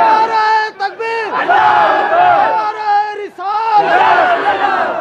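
A crowd at a naat recitation gathering shouts a loud, ringing response to the takbir call, voices surging and dipping in several waves over about five seconds.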